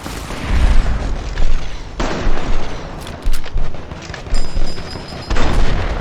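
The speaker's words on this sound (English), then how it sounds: "They're throwing grenades now." Repeated heavy booms from grenade explosions in the video game Fallout: New Vegas, with several loud blasts and bursts of gunfire packed into a few seconds, close and chaotic.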